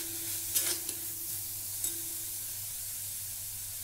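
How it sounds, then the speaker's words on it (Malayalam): Ingredients for a coconut chutney sauté in a pan with a soft, steady sizzle, broken by a few light scrapes of stirring. "ഇതും കൂടെ ഇട്ടൊന്ന് ചെറുതായിട്ട് വഴറ്റാം."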